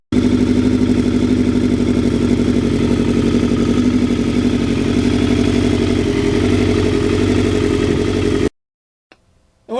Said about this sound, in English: Every one of the bikes, including the MT09, has a unique. Oh, it's a pleasant sound.